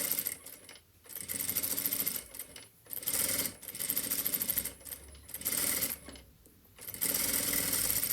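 A sewing machine stitching trouser pocket fabric for a French seam, running in close, steady bursts of rapid stitching separated by short pauses, with no talk.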